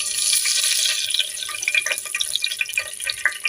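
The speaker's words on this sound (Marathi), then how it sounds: "आता आपलं तेल गरम झालेलं आहे, थोडीशी मोहरी टाकूया" Mustard seeds crackle and sizzle in hot oil in a pan while misal is cooked, a dense hiss with scattered sharp pops that grows into a steady frying crackle, close and fairly loud, with no talking.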